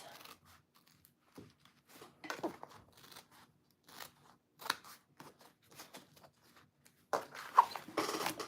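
Scissors snip through excess fabric while a tote bag is sewn, a string of close, crisp cuts and rustles in uneven bursts, quiet between and busier near the end.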